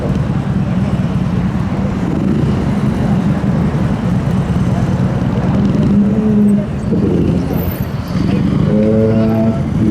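A Harley-Davidson Fat Bob 114 motorcycle with a replaced handlebar rides at a racing event, its engine drone loud and steady with a brief rise in pitch toward the end.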